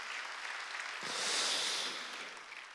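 A church congregation at a Wednesday worship service breaks into applause, the clapping swelling over a couple of seconds and then tapering off at a moderate distance.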